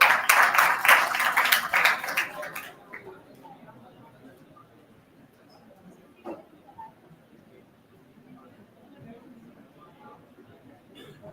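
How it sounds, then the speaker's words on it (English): An audience at a physiotherapy conference applauds an award recipient with loud, dense clapping that lasts a few seconds and then stops abruptly, leaving a quiet hall with faint room noise. "Please have a round of applause for sir."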